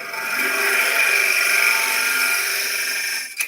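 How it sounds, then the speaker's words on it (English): A wood lathe spins steadily while a piece is hollowed out, giving a continuous loud whirring hum with a bright cutting hiss that holds even and ends with a brief knock. "All right, so I'm going to turn the lathe back on."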